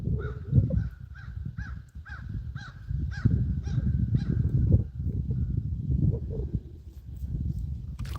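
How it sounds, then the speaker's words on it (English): Crows or ravens cawing repeatedly in a steady series of harsh calls at moderate distance, heard over low rumbling outdoor noise on a lake during a solo canoe bass fishing outing. "the only wildlife I'm seeing is birds, seagulls and crows, or ravens"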